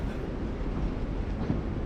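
Train in The Walking Dead video game: a steady low rumble of rolling wheels and carriage noise, moderately loud and unbroken, with no voices over it.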